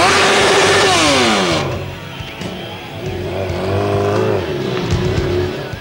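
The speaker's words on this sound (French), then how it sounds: "un truck de 12 tonnes pour 600 chevaux, qui roule, slalom, accélère et danse en équilibre sur les roues arrière" A 12-tonne, 600-horsepower truck revs hard and loud at a tuning show stunt display, pitch sweeping up and down in bursts as it slaloms, with tire noise and a roaring crowd-like wash around it.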